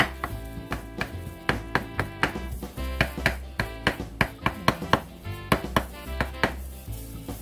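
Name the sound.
finely chopping food with a knife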